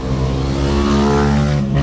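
A car accelerates hard while racing along a road past wide rice paddies, its engine loud, close and rising steadily with no break and no voices.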